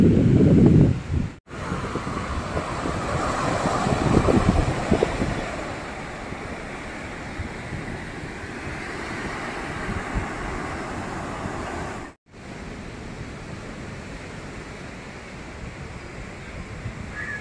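Sea waves wash steadily onto an island shore of the Arabian Sea near Goa, a continuous rushing surf mixed with gusty wind noise on the microphone, with no voices.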